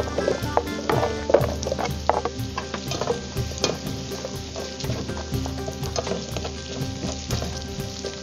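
Onion sizzles in a hot pan with ginger for rabbit stew, a dense, loud frying crackle with occasional stirring clatter, no voices.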